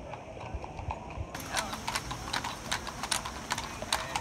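Horses' hooves clip-clopping on a city street in Seville, a steady irregular run of sharp clicks at moderate distance over a low background murmur.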